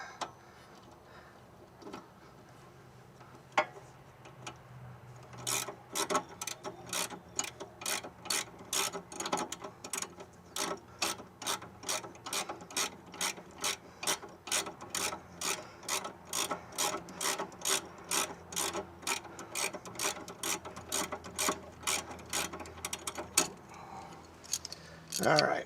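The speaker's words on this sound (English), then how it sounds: "I can actually go to that ratcheting socket and remove that a lot quicker." Ratcheting socket backing off a sway bar link nut, a long run of quick, regular metallic clicks that start after a few seconds and continue close up for most of the clip, with light handling noise between strokes.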